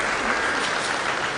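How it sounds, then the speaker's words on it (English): Audience at a DevFest Owerri 2024 tech community event applauds a celebrity couple introduced as speakers, a steady dense wash of clapping throughout with no pauses. "let's clap for them now"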